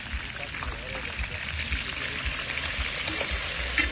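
Freshly ground ginger and garlic are thrown into a hot frying pan of fried ingredients and hiss into a steady, crackling sizzle, with a voice talking faintly beneath the frying.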